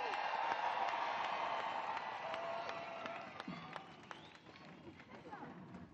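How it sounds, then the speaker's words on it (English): Crowd at an outdoor climate strike rally in Bristol claps and cheers loudly at first, then fades to scattered clapping. A voice and background chatter run over it. "can we have a round of applause for everyone that organized this?"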